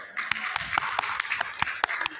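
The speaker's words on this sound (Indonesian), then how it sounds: "tepuk tangan dulu dong" Hands clapping at a speech in Tangerang, a scattered group giving sharp separate claps that never merge into full applause, moderately near and fairly soft.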